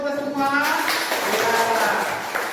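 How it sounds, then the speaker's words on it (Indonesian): A school class clapping hands together, a brief burst of dense clapping mixed with children's voices and an adult speaking. "Tepuk tangan kita buat kita semua."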